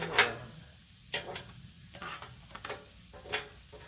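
Cajun fried rice and smoked sausages sizzle on a Blackstone griddle while a spatula scrapes and taps the hot surface in short uneven strokes, fairly quiet and without speech.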